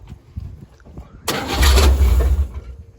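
A 1957 Chevy wagon engine, off the road for 30 years, cranks and briefly catches with a loud rough rumble for about a second before losing ignition and dying, with quiet moments on either side.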